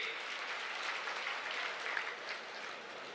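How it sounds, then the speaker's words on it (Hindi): Applause from a political rally crowd in Kurukshetra for the chief minister, a sustained, fairly faint wash of clapping with no talk over it. "एक बार जोरदार ताली बजाएं हम माननीय मुख्यमंत्री नायब सैनी जी के लिए"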